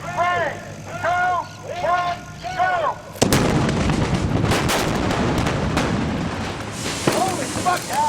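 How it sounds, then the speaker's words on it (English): Pyrotechnic fireballs erupt on a film set as a sudden loud burst at about three seconds, giving way to a sustained roaring, crackling wash with later sharp pops. Speech-like sounds are heard before the blast. "Those are the size of the fireballs."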